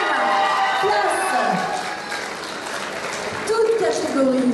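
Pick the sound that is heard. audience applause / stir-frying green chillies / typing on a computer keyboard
audience applause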